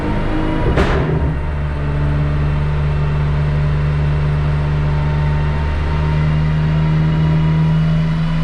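A VW MK6 GTI fitted with an HPA K04 turbo runs on a dyno in fourth gear, its engine holding a loud, steady drone with a sharp transient near the start, close and without talk.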